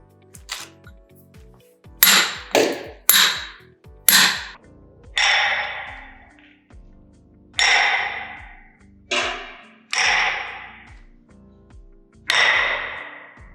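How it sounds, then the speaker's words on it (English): A steel point chisel is struck by a hammer to carve a stone surface, giving about ten sharp metallic clinks in an uneven rhythm, each ringing briefly. The strikes are close and clear, with no talking. "So you're pushing the chisel through the stone, plowing your way, as a matter of fact, through the stone"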